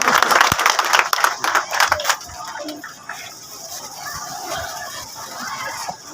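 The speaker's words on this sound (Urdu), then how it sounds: "آپ کی بھرپور تالیوں میں تشریف لاتے ہیں۔" A crowd claps to welcome a guest at a public event, a dense burst of applause that fades into a softer murmur of hall noise after a couple of seconds.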